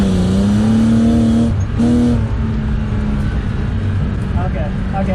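A BMW E36 drifting on dirt drones loudly as its engine holds a steady pitch, dips briefly after a clutch kick, then surges back and settles into a rough, sustained roar close by.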